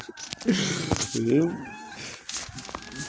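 Meows from a kitten or small cat, two short harmonic calls close by, mixed with background game or radio noise and a voice with laughter.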